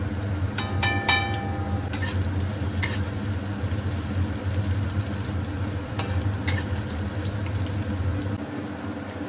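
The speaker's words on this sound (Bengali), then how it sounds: "চুলার ফ্লেম হাই করে দিয়ে বন্ধুরা উচ্ছে একটু ভেজে নেব" Bitter gourd fries in hot oil on a high flame, a steady close sizzle and crackle with a few brief clinks of a utensil stirring, continuous throughout without speech.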